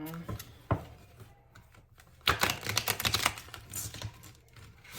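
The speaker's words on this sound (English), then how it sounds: "That was a terrible shuffle." Rapid papery riffling and flicking of playing cards being shuffled, in uneven bursts with soft taps, close by; a voice murmurs briefly.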